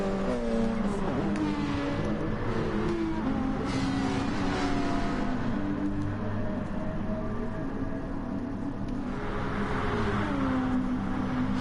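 Race cars roar away from the start at Fuji in an IMSA GT racing game, a dense, steady engine drone of many cars revving and shifting together, continuous and loud throughout.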